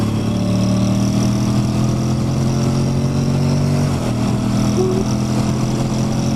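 A 2021 Honda X-ADV motorcycle engine drones steadily during a test ride, a constant close hum with a slight pitch drop partway through and no talk.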